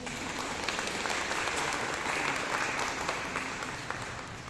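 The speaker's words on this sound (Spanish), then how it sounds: "un aplauso, un aplauso" An audience at a talk on the Shroud of Turin claps steadily, a dense wash of many hands that holds at an even level and fades slightly at the end.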